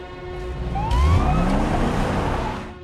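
An ambulance siren from a film scene sounds with a steady wailing tone, loud and continuous, over vehicle rumble and a low engine drone, with a sudden heavier burst partway through.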